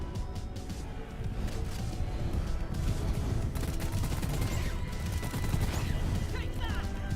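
Rapid shotgun blasts from the Boomstick in the video game Deep Rock Galactic, fired in a dense, continuous barrage with crashing impacts and game noise, loud throughout.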